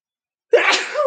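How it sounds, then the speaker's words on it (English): A single sharp human sneeze bursts out after a moment of silence, close and loud, then trails off into a brief breathy tail. "I'm gonna sneeze."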